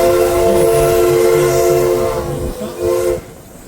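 An excursion train in Tillamook pulls alongside a caboose, sustaining a loud, steady whistle-like tone over rolling rail rumble, then easing and fading out near the end.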